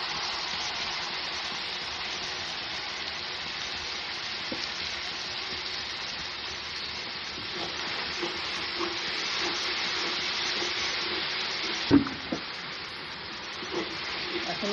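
Water poured into a pan of cooking okra, potato and poppy seed curry sets off a steady soft sizzle and steamy hiss, with a couple of brief clinks of stirring near the end.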